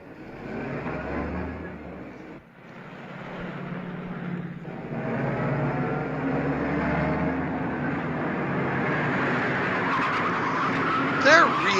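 A car motor runs and its tyres skid and squeal in a continuous, rising, moderately loud passage, with people talking over it and a sharper squeal at the very end.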